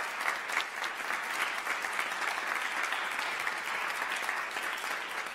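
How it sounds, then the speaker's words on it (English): Theatre festival opening ceremony audience applauds an introduced guest, a dense, steady wash of clapping from a large crowd that continues evenly for several seconds without speech. "let's give a big round of applause to Jennifer Hartley"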